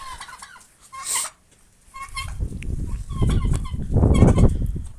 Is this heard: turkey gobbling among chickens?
yes